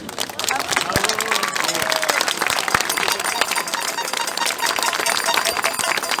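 Outdoor rally crowd claps for a flag ritual, dense continuous applause with scattered cheers and voices mixed in, fairly loud and close throughout.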